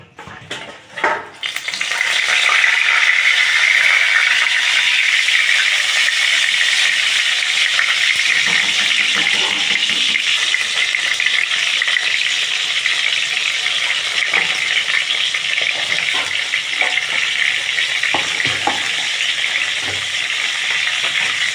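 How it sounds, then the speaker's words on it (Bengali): Eggplant pieces sizzle steadily and loudly in hot oil in a pan, a continuous bright frying hiss with occasional clicks from stirring, no voices. "বেগুনগুলো ভালো করে ভেজে নেওয়া হবে"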